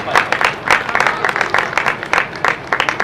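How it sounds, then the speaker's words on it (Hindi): An audience claps at a stage during an annual religious chariot-procession festival in Tikraul, Saharanpur, producing rhythmic, fairly loud applause in several waves over about three seconds. "सब लोग ताली बजा के अभिवादन करें, अनुमोदना करें"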